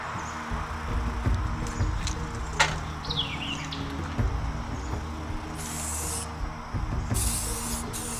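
Aerosol spray paint hissing in bursts as a second coat goes onto a metal mailbox, steady close spraying with two brighter, louder bursts near the end.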